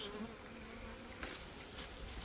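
Honeybees buzz steadily at an apiary hive during autumn colony inspections, a dense continuous drone with no voices.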